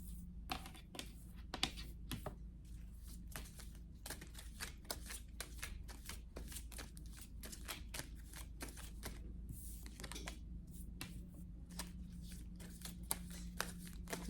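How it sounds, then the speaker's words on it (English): A deck of cards is shuffled by hand with quick, steady riffling and snapping that runs without a break for about fourteen seconds, soft and close, with no talking over it. "just gonna shuffle them up a little bit."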